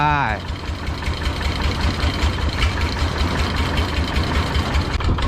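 A heavy farm tractor engine idles with a steady low chugging throb, close and continuous, after a brief rising whine at the start.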